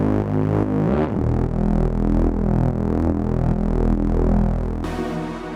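A thick, throbbing Reese bass patch from Native Instruments Massive, saturated and limited, drones loudly with a slow detuned phasing wobble, holding low sustained notes that shift pitch once near the start and again toward the end.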